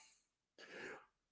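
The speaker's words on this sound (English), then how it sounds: "sorry, I have to cough." A single short, rough cough bursts out once, faint and alone, with quiet before and after it.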